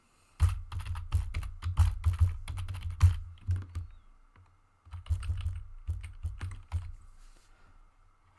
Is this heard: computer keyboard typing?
yes